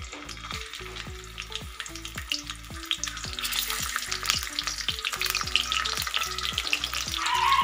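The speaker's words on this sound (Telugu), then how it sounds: "ఆయిల్ హీట్ అయ్యాక మనం ముందుగా కట్ చేసి వాష్ చేసి పెట్టుకున్న కాకరకాయలని యాడ్ చేసుకోవాలి" Cut and washed bitter gourd pieces sizzling and frying in hot oil in a pan, steady crackle building louder, with a spoon repeatedly tapping and stirring in a regular rhythm and no talking.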